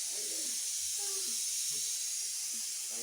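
A pressure cooker with dal inside hisses steadily in a home kitchen, a continuous high steam hiss at moderate level, with faint scattered background sounds beneath it.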